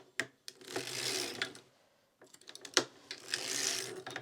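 A circular sock knitting machine, knitting heavy ribbed boot socks from sport weight yarn, is cranked with a soft, rhythmic clattering whir in two runs broken by a brief pause, close and fairly quiet.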